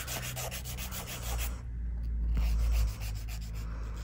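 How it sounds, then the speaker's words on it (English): A 180 grit nail file rubs back and forth across a fingernail in quick, close scratchy strokes, steady and fairly loud, with a brief pause in the middle and no talking. "As you can see, I file back and forth"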